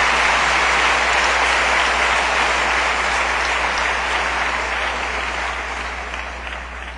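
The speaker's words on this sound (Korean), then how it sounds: "would you give him a warm welcome?" A church audience at a pastor's seminar breaks into loud, sustained applause to welcome a guest speaker, a dense continuous clapping that slowly fades toward the end.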